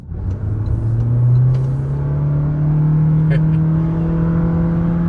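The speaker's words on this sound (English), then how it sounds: "when you're on heavy acceleration, you do get that drone, unfortunately, from the engine" A Toyota Corolla Cross Hybrid's engine drones under heavy acceleration: a loud, steady, low hum that climbs slightly in pitch, heard from inside the cabin over road rumble.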